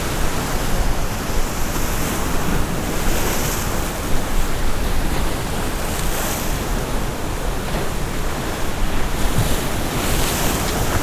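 Ocean waves crash against a Gulf jetty during a tropical storm: a loud, continuous roar of surf and wind buffeting the microphone, with no talking.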